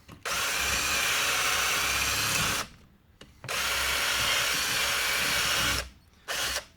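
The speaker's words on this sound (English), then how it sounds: "So I'm just gonna dig into this with a drill bit." A power drill bores into metal on a Honda Fit's broken dipstick, running loudly in two long bursts of several seconds separated by a short pause, then starting again briefly.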